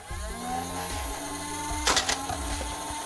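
The spinning flywheels of a 2019 Adventure Force Savage Spin foam blaster whir close by, one wheel slightly wobbly, making a mechanical hum with stepped, shifting pitches and a brief rattling burst near the end.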